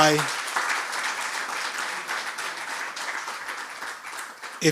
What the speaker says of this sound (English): I think they deserve a round of applause